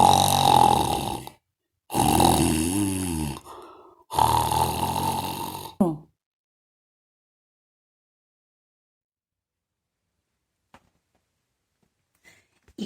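A voice imitates snoring for sleeping farm animals in a story: three long, loud, rasping snores in a row, then near silence with a few tiny clicks.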